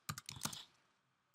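Quick burst of clicks on a computer keyboard, about half a dozen close keystrokes, then a pause and one last key press, quiet and crisp.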